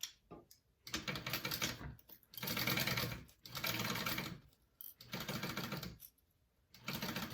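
A sewing machine bastes a zipper seam on a crossbody bag, running in four or five short bursts of rapid, even stitching with brief quiet pauses between, close and fairly soft.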